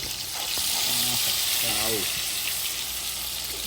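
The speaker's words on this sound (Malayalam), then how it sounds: "അതിന്റെ ഒട്ടകവും നമ്മൾ ഫ്രൈ ആക്കുക." Camel meat fries in hot oil, giving a loud, steady sizzle with occasional stirring scrapes and a few faint voices underneath.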